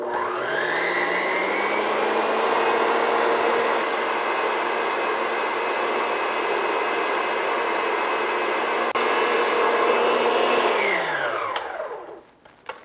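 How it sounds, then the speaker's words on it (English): An electric mixer beats eggs and sugar on high speed for chocolate cakes, giving a loud, steady, close motor whine that holds for about ten seconds before it winds down and stops. "Now we're going to beat this on high speed until it's very thick and pale."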